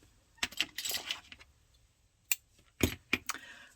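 Scissors snip crochet yarn at the end of a flower-shaped dish scrubby, making a few crisp, close metallic clicks and cuts separated by quiet pauses.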